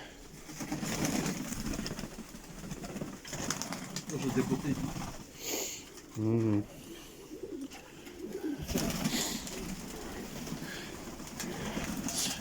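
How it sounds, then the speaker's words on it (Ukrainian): Berezneguvate pigeons coo in soft rolling bursts under ongoing outdoor chatter, with a brief flutter and a short vocal murmur of assent midway. "у вас голуби отут ви їх кормите, от не виганяєте"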